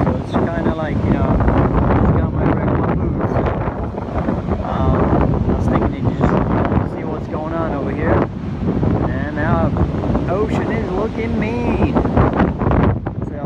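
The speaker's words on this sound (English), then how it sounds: "it is windy and the tide is going out" Wind blows hard across a shoreline at low tide, a constant loud rumble against the microphone, and a person talks over it the whole time.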